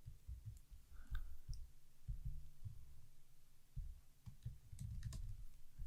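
Computer keyboard keys pressed while editing in Keynote, with Shift held to select items: a steady patter of soft, dull clicks and thumps in irregular clusters, quiet and close, with no talk.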